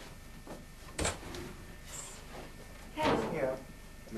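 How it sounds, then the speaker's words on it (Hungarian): A door opens for arriving guests, with a sharp click of the latch and then a louder clunk and rattle as it swings, set against quiet room noise. "Igen, nyitom az ajtót a vendégeimnek."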